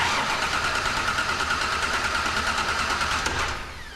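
A 1993 Ford Explorer engine cranking with its starter relay jumped, turning over steadily with a fast rhythmic churn and never catching. The cranking runs close and loud for nearly four seconds, then drops off, with no voices.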